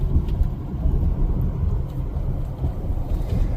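A 2008 Chevy Duramax LMM diesel pickup engine roars with a deep, steady rumble, loud and close, building under throttle for a few seconds.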